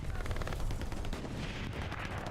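Incoming artillery in the Hell Let Loose video game: heavy, booming blasts and dense gunfire crash together in a loud, continuous barrage with no pauses.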